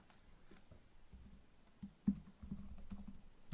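Computer keyboard typing HTML code for an email input, quick irregular clicks and key taps close by, getting busier toward the end, with no speech.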